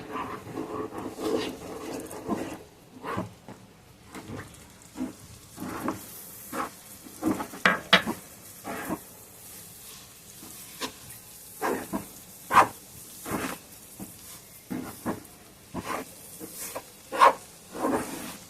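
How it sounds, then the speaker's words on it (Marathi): Semolina mixture being stirred in a hot pan, soft repeated scraping and bubbling hiss pulses at an uneven rhythm, close and fairly quiet, with no voices. "सतत हलवत राहायचं"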